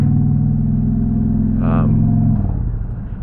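A motorcycle engine drones low and steady as the rider downshifts, heard from inside a helmet, with a brief higher whine midway before the note drops and fades; a voice talks over it.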